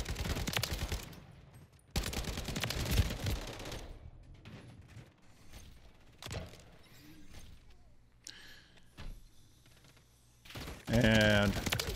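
Automatic fire from a JAK Requiem weapon in a shooter game rattles in long, dense bursts broken by short pauses, loud and close, with a person talking over the shooting.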